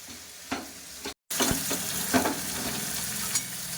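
Sarpunti fish coated in mustard paste fries in a pan with a continuous close sizzle and a few stirring scrapes, broken by one very short gap, with no voices.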